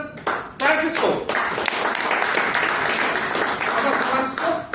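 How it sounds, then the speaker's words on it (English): Audience applause welcoming a speaker at a Toastmasters club meeting, lively hand clapping swelling quickly and continuing for several seconds, with a voice briefly heard at the edges. "let me welcome with a great round of applause Toastmaster Francisco"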